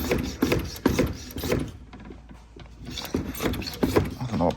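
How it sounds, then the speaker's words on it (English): Hand pump on a brake fluid pressure bleeder being worked during a brake fluid change on a Porsche Cayenne, VW Touareg or Audi Q7, giving a series of close rhythmic mechanical clicks and squeaky strokes with a short pause midway. "And then pump the pressure up."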